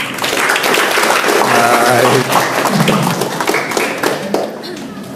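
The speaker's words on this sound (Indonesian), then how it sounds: "tepuk tangan" A seminar audience breaks into loud, lively hand clapping that swells and then tapers, with a speaker's voice briefly heard over it.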